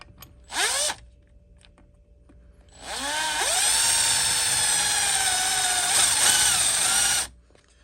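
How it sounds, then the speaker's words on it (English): A power drill running in reverse with a bit, boring out a part on a John Deere 855 tractor: a short burst, then a sustained high whine lasting several seconds, close and loud. "See if I can't drill these out."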